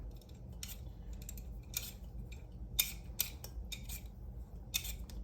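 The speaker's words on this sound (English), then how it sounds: "Go ahead and peel my potatoes." Washed potatoes are peeled with a peeler in a kitchen, producing a series of short, sharp scraping strokes at an irregular rhythm, close and fairly quiet over a faint background hum.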